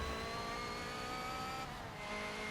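Race car engine in a Le Mans racing video game holding a steady, loud mid-pitched drone with a slight pitch shift midway as power comes back on, continuous throughout with no talk.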